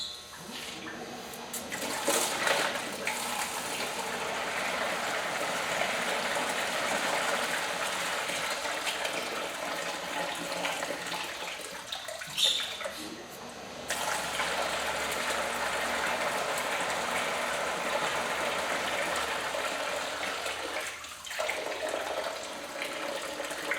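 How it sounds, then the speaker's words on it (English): Garden hose pressure pushes water through the heater core of a 1998 Chevrolet S10, a steady rushing gush lasting many seconds with a couple of brief dips and clanks. "Keep flushing it with the hose pressure"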